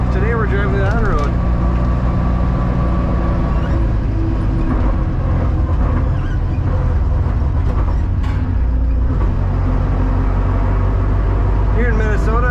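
A 1976 Steyr-Puch Pinzgauer with a 5-speed gearbox drives on dry winter roads, its engine droning steadily up close with changing road noise, while someone talks over it in places.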